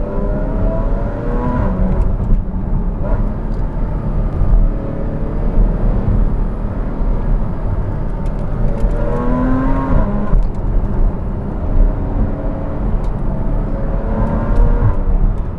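A Porsche 981 Cayman S fitted with F1 headers accelerates on freshly repaved road in sport mode with manual paddle shifts, its engine note rising and falling through repeated pulls, loud and close from inside the cabin.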